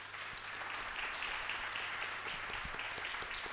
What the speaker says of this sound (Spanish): Un aplauso para Caudalí, por favor.